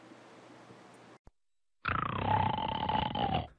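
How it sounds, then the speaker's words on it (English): A person snores with one loud, rough, rattling inhale lasting nearly two seconds, after a quieter breathy stretch and a brief silent gap. "Does snoring keep you awake or keep you apart?"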